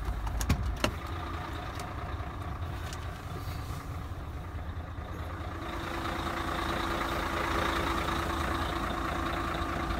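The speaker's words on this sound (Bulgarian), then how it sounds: "даваме на някоя ниска първа или втора придавка, напред-назад да го разлашкаме, в случая камиона е автоматик" An automatic truck's diesel engine rumbles while the truck is rocked forward and back in a low gear to test a trailer coupling. A few sharp clicks come early, then the engine note rises and holds steady, nearby.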